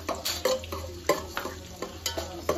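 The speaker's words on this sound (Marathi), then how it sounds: "आता ते लसूण थोडी चांगली भाजून दे, थोडी लालसर होऊन दे।" Garlic frying in hot oil in a pan, a steady sizzle broken by regular scraping stirs of a utensil, close and moderately loud.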